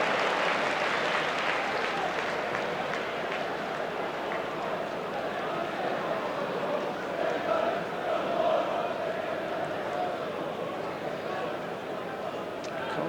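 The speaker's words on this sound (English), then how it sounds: "the cheer that went up around Ellen Roads" Crowd at Elland Road during a 1992 Leeds versus Coventry match, a continuous broad roar of cheering and applause from the stands, fairly loud and sustained with slight swells, a commentator's voice audible beneath.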